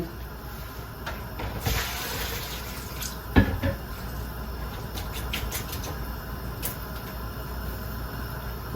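Tap water runs steadily into a pot in a kitchen sink, used to cool ingredients while cooking stir-fried asparagus with shrimp, with a soft continuous hiss and a sharp metallic clink partway through.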